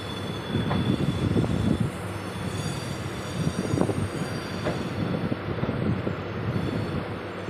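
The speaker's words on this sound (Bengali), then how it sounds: "খুব স্লো কিন্তু ট্রেন যাচ্ছে, ভীষণ স্লো।" A local train on the Howrah to Belur line rolls slowly, with a constant low rumble of wagons, rhythmic wheel knocks over rail joints, and thin squeals from the wheels all the way through.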